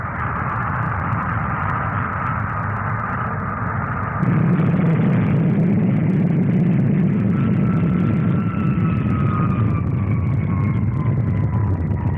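A bomber powered by Olympus jet engines climbs almost vertically at the 1959 Farnborough air display, a loud, sustained jet roar that surges in strength partway through as a high whining tone slowly falls in pitch.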